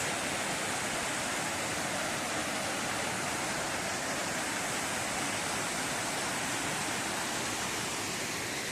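The Bassin des Aigrettes waterfall on Reunion island pours in a steady, dense roar of falling water that holds constant and fills the whole span, with no voices.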